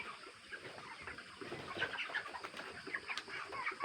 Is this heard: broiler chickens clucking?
yes